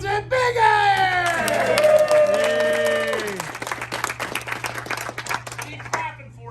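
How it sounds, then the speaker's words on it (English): Spectators at a Tombstone, Arizona gunfight show cheer, whoop and shout with sustained voices, then clap in a loose, scattered burst that fades out, with talking mixed in and a steady low hum underneath. "He's clapping for you."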